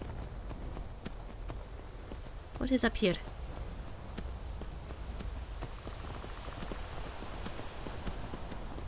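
Horse hooves clip-clopping in a video game, a steady soft rhythm of steps with light rain-like texture, under someone talking.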